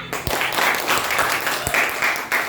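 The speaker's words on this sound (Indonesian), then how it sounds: "Sekali lagi tepuk tangan untuk semuanya." Classroom applause for student group presentations, several short bursts of clapping from a group of students, moderately loud and close.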